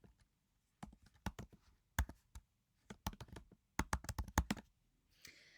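Fingers type on a computer keyboard in quick, irregular bursts of sharp, close keystrokes separated by short pauses, fairly quiet and with no voices.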